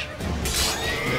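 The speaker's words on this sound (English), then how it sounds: "Oh Jesus, the horse." A horse in the video game The Witcher 3 gives one loud, close neigh lasting about a second.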